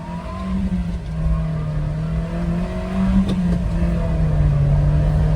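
A two-wheel drive van engine runs loud and close, rumbling steadily and rising a little as it revs, with no voices.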